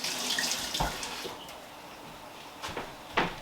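Tap water runs steadily into a sink while tomatillos are washed, close and moderate, with a few brief knocks and splashes as they are handled.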